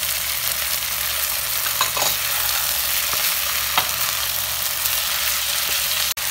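Capsicum and cabbage stir-fry in a hot pan for chicken vegetable macaroni, with a steady, even sizzle throughout, occasional light stirring taps and a sharp clack at the very end.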